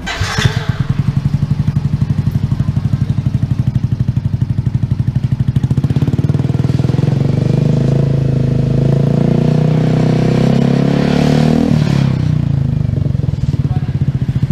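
A motorcycle fitted with a Tecno exhaust idles with a deep, bassy throb, then is held at a rising rev for several seconds before dropping back, loud and close with no talk.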